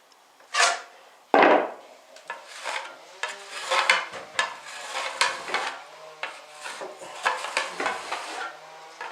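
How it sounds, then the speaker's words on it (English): Corner trowel scraping and smoothing wet plaster into a wall corner, with close scraping strokes and a few louder swipes at the start, followed by a series of short, irregular rasping passes. "Bit of plaster on your corner trowel, and then just run it in."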